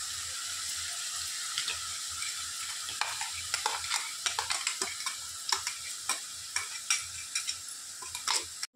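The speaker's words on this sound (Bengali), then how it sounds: "আমার মাংস প্রায় কষে গেছে, আর তেলটা ওপর থেকে আস্তে আস্তে ভেসে আসছে।" Meat frying in oil with spices, being stirred in a pan: a steady low sizzle runs throughout, with sharp scraping and clinking strokes of the spoon growing more frequent and prominent in the second half, close by and without talk.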